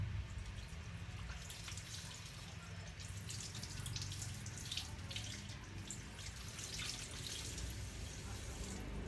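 Bottle gourd rinsed under a running kitchen tap, a steady hiss of flowing water with splashes and drips throughout, fairly faint and continuous.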